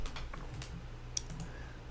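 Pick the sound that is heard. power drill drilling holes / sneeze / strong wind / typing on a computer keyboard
typing on a computer keyboard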